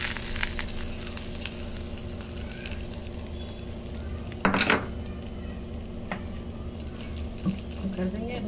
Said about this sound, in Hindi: हमारा तड़का तैयार, आप डाल देंगे इसको